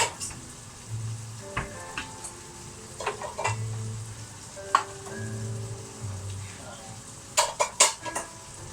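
Minced beef frying in a pan, with a utensil scraping and clinking against the pan at intervals over a steady low sizzle. The clatter is close and fairly quiet, and no one speaks.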